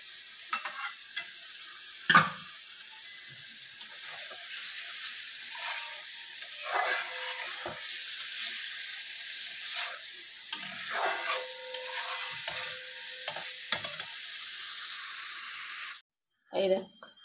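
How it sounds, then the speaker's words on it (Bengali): Pointed gourd with coconut stir-fries in mustard oil, a steady close sizzle with scattered scraping stir clicks, a louder knock near the start and a brief drop to silence near the end. "এর উপর দিয়ে আমি একটু সর্ষের তেল দিয়ে দেবো।"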